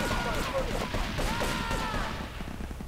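Rapid bursts of gunfire in GTA III crackle continuously, loud and dense, with shots overlapping throughout in a busy, game-like barrage.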